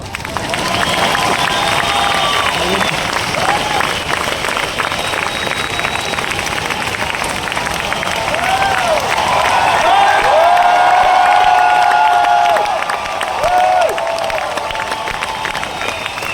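Audience applause at a motivational talk: a dense, steady wash of clapping and crowd noise that runs for about sixteen seconds at full strength before easing slightly near the end.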